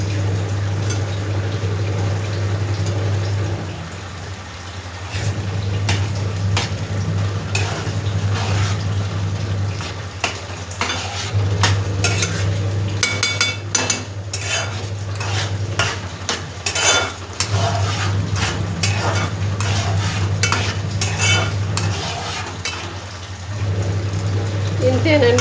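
White brinjal and drumstick curry boils in a pot, giving a soft bubbling and simmering under steady low hum, with occasional utensil clinks and someone talking over it.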